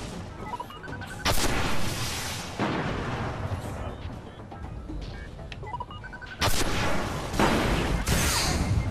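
Rockets fire in the Destiny video game during the Winter's Run Nightfall strike against minotaurs: two loud, sharp blasts, one near the start and one later, each trailing into a rumbling wash over steady game noise.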